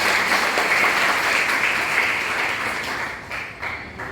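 Sustained audience clapping at a Mukhyamantri Abhyuday Yojana gathering, dense and steady before gradually thinning out toward the end.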